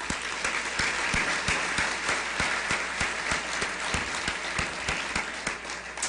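A crowd at an awards ceremony claps in dense, sustained applause, individual sharp claps standing out from the steady wash, moderately loud throughout.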